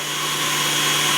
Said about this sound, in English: Just going to give that a nice little mix